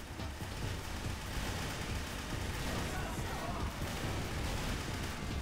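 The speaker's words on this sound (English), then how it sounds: "Watch the rockets incoming." Incoming rockets in the Team Fortress 2 Classic video game, a dense, continuous barrage of rumbling booms and crackling blasts that stays loud and steady throughout, with a voice faintly present beneath.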